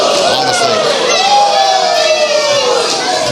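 Crowd at a PWA All-Star title wrestling match: a steady roar of cheering and shouting fills the hall, with a commentator talking over it throughout.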